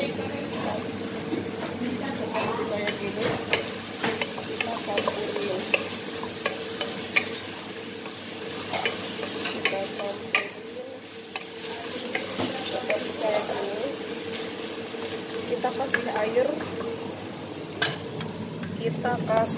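Green chilies stir-frying in a pan for a beef spaghetti dish: continuous sizzle with repeated scraping and stirring clatter, moderately loud and close, with no voices.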